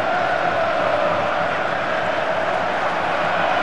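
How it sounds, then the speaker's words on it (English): A football stadium crowd in a video game match roars in a dense, steady wash of cheering and shouting, loud and sustained throughout without a break. "that got the crowd excited, that attack"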